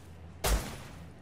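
A single sharp gunshot in the survival video game Rust, a loud, brief blast followed by a short fading tail against a quiet background.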